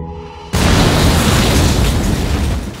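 A bomb strapped to a person goes off in a sniper action film, a sudden loud blast after a half-second of low music, followed by a dense roaring rumble and debris noise that holds steady before slowly easing.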